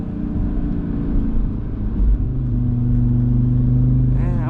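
An Audi RS3 with a loud exhaust, set up for a brake boost launch, holds a deep rumbling idle and then steps up to a steadier, louder rev. Near the end there is a rising whine.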